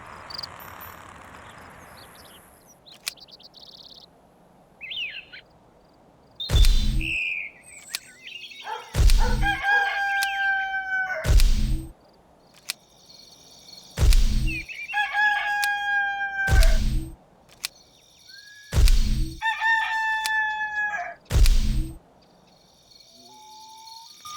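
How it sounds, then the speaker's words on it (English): A rooster crows repeatedly, several loud, close calls spaced a few seconds apart with faint insect chirping and quiet background between them. "Roosters always crow when the sun comes up."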